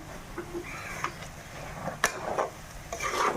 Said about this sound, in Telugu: ఇవన్నీ బాగా కలుపుకోవాలి.